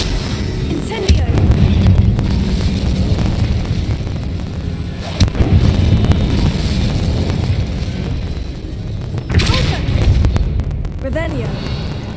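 A fire spell cast in Hogwarts Legacy bursts out as a loud whooshing, booming blast, followed by sustained roaring rumble with further bursts around the middle and end, mixed with game voices.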